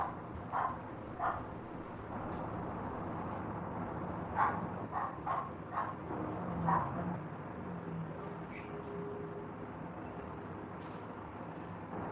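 A dog barks several times, sharp yips and bow-wows of middling distance scattered over a steady noisy background hum, with no talking.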